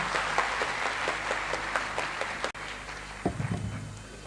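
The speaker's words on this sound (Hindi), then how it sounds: "तो सभी लोग एक साथ भारी तालियों के साथ स्वागत कीजिए मिस्टर अतुल सर का।" Applause from a seminar audience welcoming a guest, a steady patter of many hands that cuts out briefly, then a few louder scattered claps and a thump near the end.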